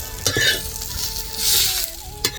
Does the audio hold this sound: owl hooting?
no